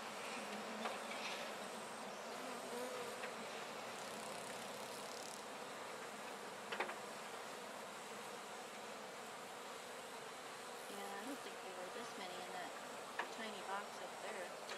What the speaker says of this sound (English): Now see, there's a lot of fanning going on there.